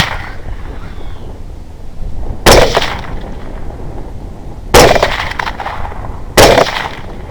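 Three loud, sharp rifle shots ring out at a hog hunt aimed at running hogs, spaced about two seconds apart, each with a short echoing tail over low outdoor background noise.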